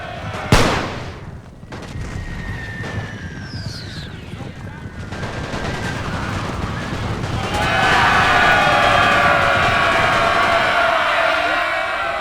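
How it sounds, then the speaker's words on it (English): Massed rifle fire from four infantry units in a Great War strategy game, France versus Germany, crackles in dense sustained volleys with sharp single cracks, swelling louder toward the end. "Now there is of course 4 units firing"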